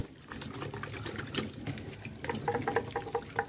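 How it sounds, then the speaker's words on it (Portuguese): Water splashing and running as a surface is rinsed after cleaning with a homemade cleaner, an uneven close pour with drips and bubbly trickles, no voices. "A gente joga uma água."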